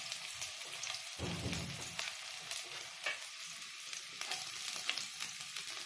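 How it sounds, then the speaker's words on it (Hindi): Onion frying in hot oil in a wok, a continuous light sizzle with a brief low rumble of stirring early on, moderately loud and close, with no talking. "एबे कड़ाई रे टिके तेल दबा, टिके गरम हो आसले से आम प्याज पकेबा"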